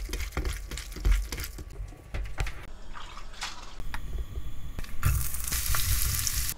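Ingredients for Korean garlic chive japchae are stir-fried in a pan, with a close, loud sizzle and repeated clattering and scraping stir strokes, no talk.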